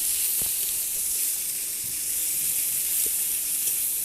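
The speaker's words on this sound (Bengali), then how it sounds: "এবার দিয়ে দেবো পোস্ত বাটাটা। একটু ভালো করে কষিয়ে নেব।" Poppy seed paste fries in a pan for a Bengali fish curry, giving a steady, loud, close sizzle and hiss throughout with faint stirring taps and no talking.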